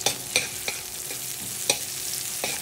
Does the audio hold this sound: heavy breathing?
no